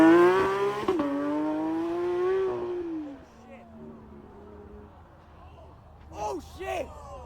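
A Porsche revs hard and speeds away from a car show, its high-pitched engine note climbing and then fading, followed by a distant scrape and tyre noise as it crashes, with people's voices around it.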